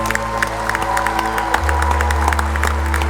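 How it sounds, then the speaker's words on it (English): Crowd applause and cheering at a 2018 WVU Sports Hall of Fame ceremony for an inductee, steady clapping and scattered whoops under a constant low hum, swelling slightly partway through. "Please join us in a round of applause for 2018 inductee Larry"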